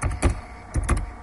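Computer keyboard keys tapped while entering a boot-script command on a Linux system, two close pairs of crisp clicks with a short pause between them, close and fairly quiet.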